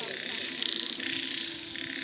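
A dense chorus of many frogs croaking steadily, continuous and fairly loud, with rapid repeated calls overlapping throughout and no speech.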